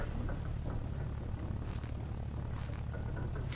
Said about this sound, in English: Oh, we've got a seaplane.